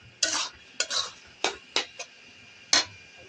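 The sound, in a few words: stirring and sautéing curry gravy in a pan for egg curry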